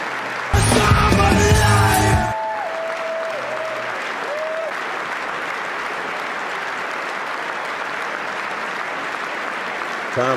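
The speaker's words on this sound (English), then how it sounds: "Look, they're cheering for him." An audience in Congress applauds and cheers Netanyahu, with sustained clapping and a few yells throughout; a burst of other loud sound with a tonal sweep briefly overlaps near the start.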